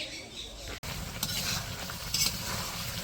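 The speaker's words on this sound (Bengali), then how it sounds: "এই যে এই পাশে হচ্ছে মাংসগুলো কষাই নিছে, অনেকক্ষণ ধরে কষাই নিছে" Buffalo meat is stir-fried in a pot with a steady, close sizzle and scraping stir sounds. A brief sharp break comes early on.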